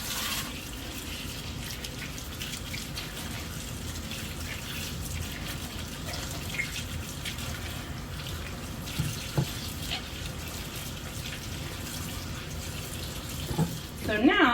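Tap water runs steadily into a kitchen sink while rhubarb stalks are washed under it, a continuous splashing hiss that holds throughout with brief clatters near the end.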